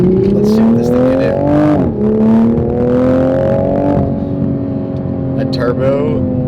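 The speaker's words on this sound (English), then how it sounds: "That turbo makes some pretty good noises from the factory" A 2021 Toyota Supra A90 turbocharged engine revs and pulls hard, pitch climbing through gears with a brief dip between shifts, loud and close.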